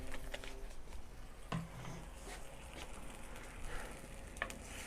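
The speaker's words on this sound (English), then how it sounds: "we're gonna glaze the pan with a little bit of apple cider vinegar, just so it covers the bottom" Apple cider vinegar sizzles steadily in a hot pan, glazing the bottom while cooking mango habanero chicken lollipops; a soft, continuous hiss with faint crackles throughout, no voices.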